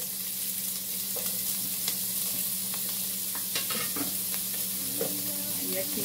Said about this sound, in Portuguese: Vamos esperar a cebola se dourar